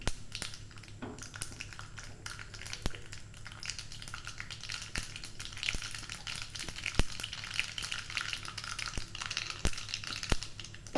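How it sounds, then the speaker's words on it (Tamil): Mustard seeds crackle and splutter in hot oil for onion chutney, a dense continuous sizzle broken by sharp pops and snaps scattered throughout, close and steady with no talking. "கடுகு பொரிஞ்சிச்சு, இதை ஊற்றிடலாம். பாருங்கள் எப்படி பொரியுதுன்னு."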